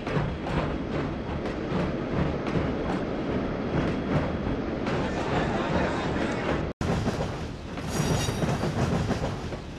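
A narrow gauge Denver & Rio Grande Western steam train in the Trainz 2009 simulator rolls past Los Pintos siding and over its trestle between Antonito, Colorado and Chama, New Mexico. Steady, rhythmic clickety-clack of wheels on rail joints, with a brief dropout near the end.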